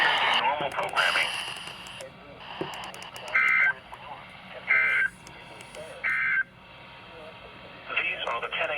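Three short, loud electronic alert tones from a NOAA Weather Radio warning device test sound in evenly spaced bursts, with a broadcast voice talking before and between them.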